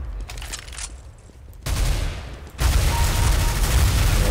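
Automatic LMG fire in Counter-Strike: Global Offensive, loud and continuous dense bursts that swell sharply after a quieter stretch, with no talk over it.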